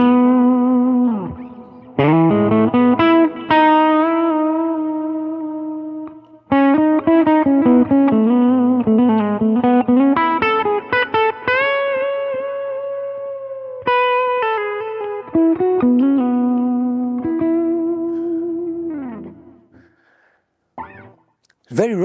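An Epiphone 1959 Les Paul Standard on its bridge pickup with volume and tone full up, played through a Dumble amp: a rich, thick electric guitar phrase of sustained notes and bends. It plays alone with gaps and ends in a short pause.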